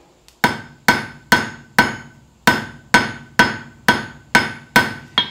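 A blacksmith's hammer strikes thin, square-tapered steel stock to round it, giving ten sharp, ringing taps at a steady, unhurried rhythm, close and loud with no talk.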